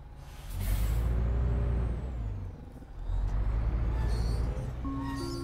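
Squealing from the articulated joint of a Van Hool AGG 300 double-articulated bus in the OMSI 2 simulator, rising in two long loud waves over a deep engine rumble, with a faint thin whine sliding across the top.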